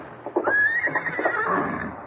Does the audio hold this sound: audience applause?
no